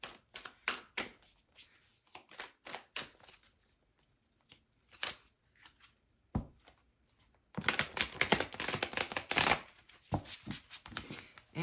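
Tarot cards being shuffled with crisp riffling and tapping, sparse at first, then a dense, louder flurry of shuffling before settling into a few taps.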